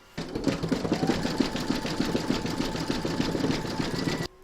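An embroidery machine stitches a design round on a hooped in-the-hoop snowman project, a close, steady, rapid mechanical chatter of needle strokes running evenly from start to finish.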